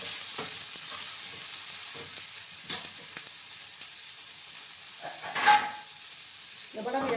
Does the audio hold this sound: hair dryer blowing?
no